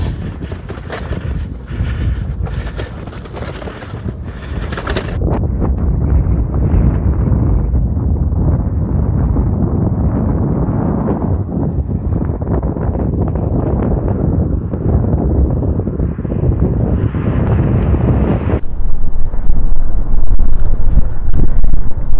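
Strong gusting wind batters the microphone while cycling through the Namibian desert, a loud, continuous rushing roar that shifts in intensity and swells harder toward the end.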